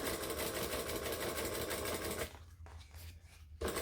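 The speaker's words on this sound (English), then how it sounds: "slowly stitch one side, and then I'm going to top stitch the other" A sewing machine stitches a seam at a 4 stitch length on a garment, whirring steadily and close for about two seconds before stopping, followed by a few short, quieter bursts of stitching.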